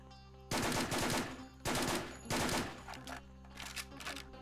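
Automatic gunfire in the video game The Stalin Subway 2: Red Veil, three loud bursts of rapid shots over a steady humming game backdrop, followed by lighter scattered shots.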